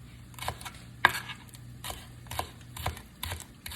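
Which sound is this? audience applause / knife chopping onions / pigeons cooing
knife chopping onions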